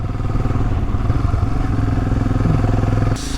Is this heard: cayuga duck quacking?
no